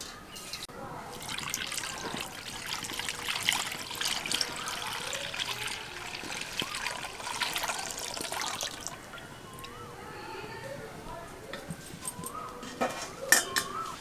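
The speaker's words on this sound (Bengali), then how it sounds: "এখন কড়াইয়ের মধ্যে আমি এখানে যে 1 লিটার দুধ নিয়েছি সেই দুধটা ছেঁকে দিয়ে দেব।" One litre of milk is strained into a kadai for sweet curd, with liquid pouring and trickling alongside clinks of metal utensils, fairly quiet and close, while a voice speaks over it.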